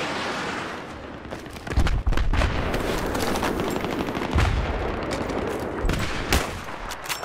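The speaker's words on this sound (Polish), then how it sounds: "Gdzie on tutaj do mnie strzela?" Rapid bursts of automatic rifle fire and heavier single shots crack loudly through a Battlefield 3 firefight, with sustained shooting and a few sharp booms standing out, no talk over them.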